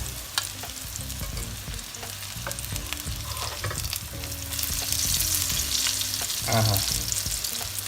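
Sweet breakfast fritters (aladi) fry in a pan over low heat. The steady oily sizzle goes on throughout, with occasional clinks and stirring sounds close by.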